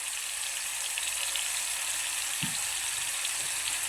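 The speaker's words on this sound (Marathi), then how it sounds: "कांदा टोमॅटो, चांगला परतून घेऊया आपण मस्त एकदा" Onion and tomato sautéing in a pan for an egg masala, a steady close sizzle and crackle running throughout, with one brief soft knock of a stir.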